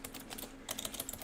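Quick keystrokes clatter on a computer keyboard during coding, a soft rapid patter of taps that grows busier midway, heard up close over a faint electrical hum.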